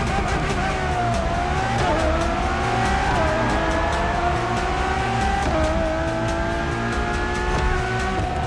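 A Ferrari Enzo supercar engine in the racing game The Crew Motorfest, a steady loud high-revving drone with rising gear sweeps and a brief tire squeal, continuous throughout with faint voice beneath.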